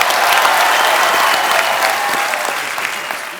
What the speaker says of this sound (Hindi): धर्मेश के लिए जोरदार तालियां यार